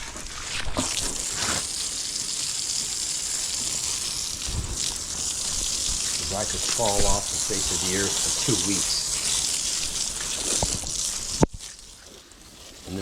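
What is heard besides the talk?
water spraying from a hose onto a dog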